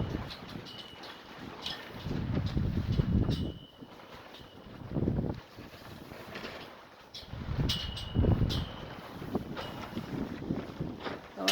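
Gusty wind in a Santa Cruz windstorm buffets the microphone in heavy low rumbling surges that rise and fall every few seconds, with faint bird chirps and flapping in the background.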